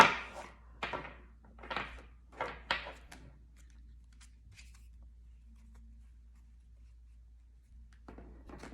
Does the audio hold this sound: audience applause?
no